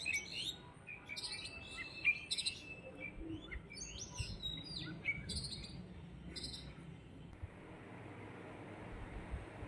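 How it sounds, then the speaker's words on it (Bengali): Many small birds chirp and twitter from tree branches outdoors, with quick bright bursts clustered in the first six seconds and then thinning out, moderately distant and soft over a low background hum. "অনেকগুলো পাখি না ডাকছে, কিচির কিচির কিচির, শোনো।"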